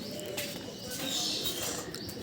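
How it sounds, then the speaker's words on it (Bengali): Pet doves (ghughu) kept in a rooftop cage, with soft chirps and coos repeating over a steady, noisy outdoor background. "দেখছেন আমার ঘুঘু পাখিগুলো কিভাবে পাখা মেলে দেখেন রোদ পোয়াচ্ছে।"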